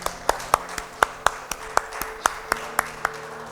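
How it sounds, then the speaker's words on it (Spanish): Worshippers in a church service clap in a steady, evenly spaced rhythm of sharp claps over sustained keyboard tones, moderately close and without talk. "Dale un aplauso a Cristo."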